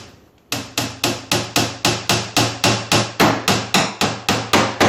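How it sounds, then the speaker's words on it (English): Hammer driving finishing nails into wood while building a kitchen island, a loud close series of about fifteen evenly spaced sharp knocks in a steady rhythm after a brief quiet start, with no talk. "I'm just going to put these couple finishing nails in here"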